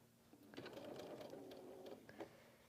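A sewing machine stitches quilt pieces together in a soft, steady mechanical whir of rapid needle strokes lasting a couple of seconds, quiet and close, with small clicks at start and finish.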